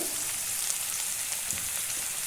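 Ground cumin, coriander and turmeric fry in hot oil for an eggplant yogurt curry, giving a steady, close, bright sizzle with fine crackling throughout and no one talking.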